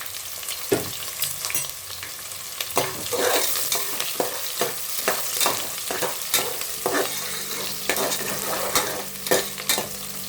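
Sliced onions frying with spicy masala in hot oil: a continuous crackling sizzle with frequent rapid scrapes of a stirring spoon on the pan, close by and with no voices.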